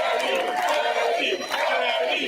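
Crowd cheering and shouting for the city's first Latino police commissioner at a precinct gathering, a dense, steady roar of many voices held at a loud level throughout.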